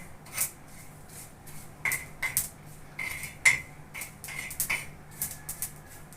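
A mustard-based mixture is roasted and stirred in a pan, with repeated close scraping and knocking of a utensil against the metal in an uneven rhythm.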